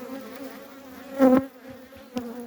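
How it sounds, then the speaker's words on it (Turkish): A hornet attacks a beehive at the brood area: a steady, close insect buzz drones throughout, swelling briefly at one point, then settling back to a continuous hum. "Kılıç arısı. Şu an zaten saldırıyor."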